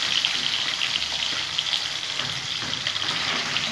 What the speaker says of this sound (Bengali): তেল গরম করে নিয়েছি, মাছটা দিয়ে দিলাম।